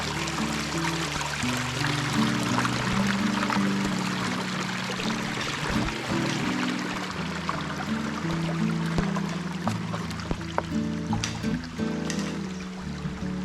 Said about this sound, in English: Tranquil sound of the water flowing through a creek.